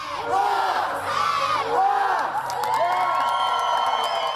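A large crowd cheers and shouts loudly at a college gymnastics meet, with excited whoops and yells rising and falling in a big echoing arena.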